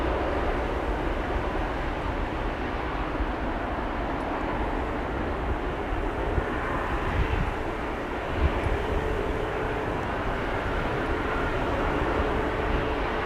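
Delta Air Lines Airbus A330neo, a two-year-old widebody, departing Amsterdam Schiphol, giving a steady, broad roar of jet engines that holds at an even level throughout, heard from a distance with no talk over it.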